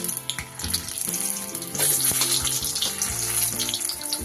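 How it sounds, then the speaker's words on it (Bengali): Paneer chops deep-frying in oil, a close, lively sizzle and bubbling that swells louder midway, with light clinks of utensils and no talking. "এভাবে এক এক করে ভেজে নেব"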